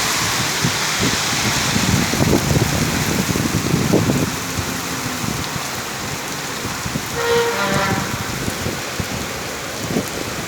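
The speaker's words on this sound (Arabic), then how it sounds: "مطر وريح وشمس ما شاء الله." Steady rain and wind in Riyadh, a dense broadband hiss that never lets up for the whole stretch, with denser drumming of drops early on and a brief tonal squeak partway through.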